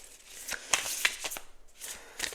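A deck of oracle cards being shuffled by hand in a card-reading session, with a run of close, crisp riffling and slapping bursts and a short pause before a final flurry.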